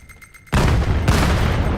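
A grenade in the VAIL virtual reality shooter blasts with a sudden loud burst after a quiet moment, and the roar rumbles on with a second impact close behind.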